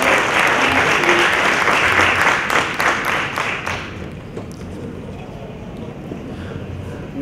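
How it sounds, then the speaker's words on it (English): Audience applause at a clean energy forum panel session, a loud, dense burst of clapping that fades after about four seconds into quieter room noise with faint murmuring. "let's give another round of applause to her and thanks for"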